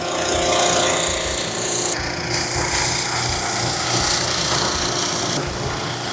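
A Scotch scouring pad soaked in Goo Gone scrubs the plastic wall of a vandalized porta potty, producing a loud, continuous close rasping rub with brief pauses and changes in stroke, and no talking.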